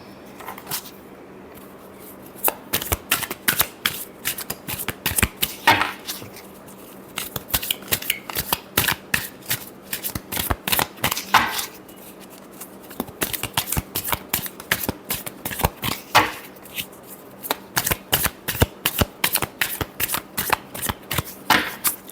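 Tarot cards are shuffled by hand close up in repeated bursts of crisp riffling and slapping, with brief pauses between rounds and no voices.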